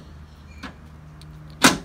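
Electronic deadbolts on a Ford Transit cargo van unlock by remote: a faint click, then a sharp, loud mechanical clunk near the end over a low idle hum.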